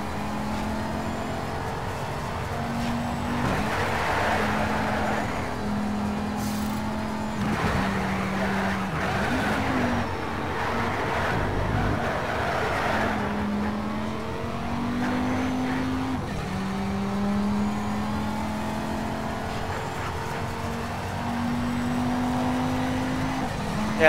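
A race car in NFS Shift revs hard and accelerates through repeated gear changes. The engine whine climbs and drops in steps, with tire noise and rumble underneath and other cars close by. It plays steadily for the whole stretch.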